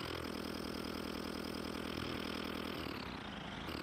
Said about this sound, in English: You can probably hear some engine sounds.